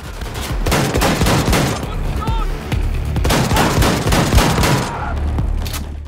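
Shotgun fire in the video game Wolfenstein II: The New Colossus, loud repeated blasts amid chaotic combat noise, with a player talking intermittently over the action.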